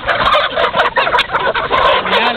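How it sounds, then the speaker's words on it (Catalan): Hens packed in blue bags are loaded onto a coach, cackling and squawking in loud, irregular bursts that overlap one another throughout. "totes aquestes bosses blaves, són gallines"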